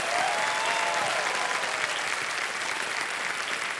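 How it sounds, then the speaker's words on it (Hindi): Studio audience applause on the KBC quiz show with Amitabh Bachchan, a dense, even wash of clapping sustained throughout at moderate level with no talk over it. "तालियां बज जाए आनंद राजू के लिए।"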